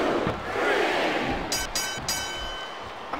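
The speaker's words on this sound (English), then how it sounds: "I'm not sure I agree with what the crowd is chanting, JR, but I guess it's their right." An arena crowd in the WWE SmackDown vs. Raw 2007 video game roars and chants in a broad sustained wash, broken by a couple of sharp bright bursts partway through.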